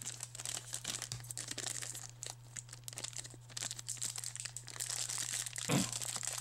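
Glued plastic sacks from an Amazon Fire TV box being crinkled and pulled open, a close, continuous rustle with sharp crackles and one louder tearing snap near the end.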